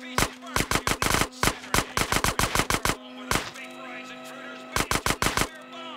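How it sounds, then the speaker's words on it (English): Rapid bursts of gunshots in GTA San Andreas, sharp loud automatic shots in quick clusters with brief pauses, a player voice talking over the firing. "I think if I keep shooting it, I get it, right?"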